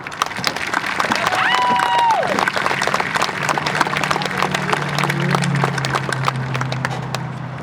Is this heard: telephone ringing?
no